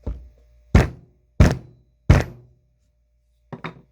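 A Stoeger Condor shotgun action is banged on a wood block: three sharp, loud wooden thunks at even intervals, then a quick double knock after a pause.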